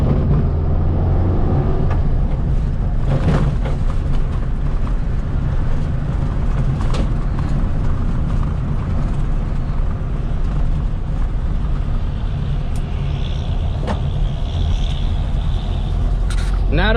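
A Volkswagen Beetle on its first drive after a new brake system rumbles loudly and steadily from inside the cabin, with continuous engine and road noise throughout and a few faint clicks.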